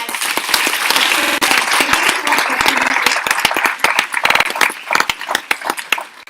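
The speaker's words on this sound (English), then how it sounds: "Let's give a big round of applause" An audience at a Bharatanatyam arangetram dance recital in Hong Kong applauds loudly, a dense wash of many hands clapping at once, with sharp individual claps standing out as the ovation goes on.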